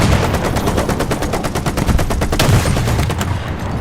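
Sustained rapid gunfire from a tank video game featuring a French light tank, a dense, loud and continuous rattle of shots with no speech over it.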